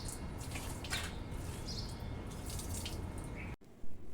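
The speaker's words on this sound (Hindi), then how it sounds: "तो यहाँ पौधों में पानी देके करेंगे यहाँ की सफाई।" Water splashes and trickles steadily while balcony plants are watered, fairly faint and continuous with occasional brighter spatters and birds chirping in the background, then cutting off abruptly near the end.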